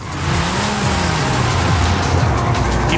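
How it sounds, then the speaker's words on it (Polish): A car engine in Forza Horizon 5 revs with the clutch pressed and the throttle floored, a loud continuous roar with wavering pitch as revs climb and dip, close and alone. "Jak chcesz, żeby samochód wszedł bardziej na obroty, naciskasz na chwilę sprzęgło i gaz do końca."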